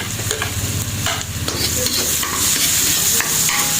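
Onions fry for buttered shrimp, sizzling loudly and steadily in a pan while a spatula stirs them with repeated scrapes, with no voices.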